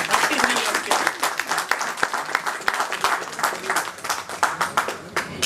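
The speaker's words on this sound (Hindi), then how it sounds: "साथियों एक बार जोरदार तालियां हो जाए मैडम के 33 इयर्स के।" A crowd at a retirement party for a bank employee with a 33-year career gives steady, dense applause, many hands clapping continuously at moderate volume with no voices over it.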